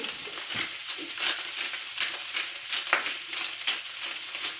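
Leftover rice frying in a pan with salt and pepper: a steady, close sizzle with rhythmic swells as it is stirred and tossed, about one surge every half second, with no talking.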